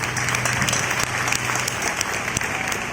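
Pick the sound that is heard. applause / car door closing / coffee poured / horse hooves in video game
applause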